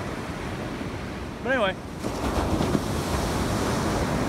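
Ocean surf breaks on a beach during surf fishing, a steady close wash of waves and wind buffeting the microphone, with a short spoken phrase partway through.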